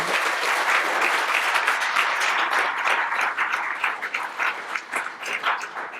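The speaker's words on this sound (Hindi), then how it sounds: "सबके लिए एक बार जोरदार अभिनंदन" Audience applauding students after their performances at a Valmiki Ramayana discourse, a full, steady round of clapping from many hands, loud and close, tapering slightly toward the end.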